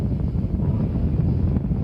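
Rocket engines roar at liftoff, a steady, dense low rumble with broad noise filling the whole span, loud and continuous with no voices over it.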